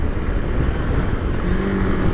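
2021 KTM Super Adventure S V-twin motorcycle engine chugging along in fifth gear, a steady, loud, low rumble with wind roar on a twisty road.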